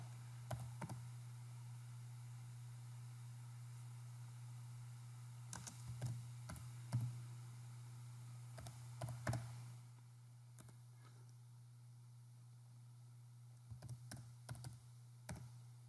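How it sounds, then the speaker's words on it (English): Sporadic keystrokes on a computer keyboard while data is entered into spreadsheet cells, coming in short bursts separated by pauses, fairly faint over a steady low electrical hum. "So you can follow along while I type."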